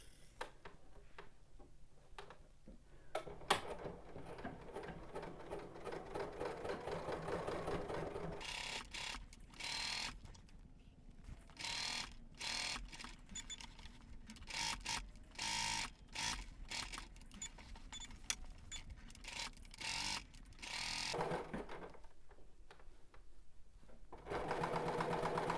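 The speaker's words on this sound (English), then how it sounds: "let's head over to the machine and edge stitch our pocket down" A sewing machine edge stitches a pocket down with an edge stitch foot, running in short bursts of rapid, steady stitching with brief pauses between them, close and moderately quiet.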